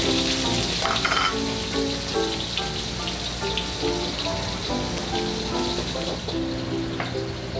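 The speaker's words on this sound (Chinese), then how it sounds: "煎鲫鱼肚哎，看起来真美味。" Marlin belly pan-fries in Taitung, a close, steady sizzle and spatter of oil with light stirring clatter and a few intermittent tonal clinks, with no talking.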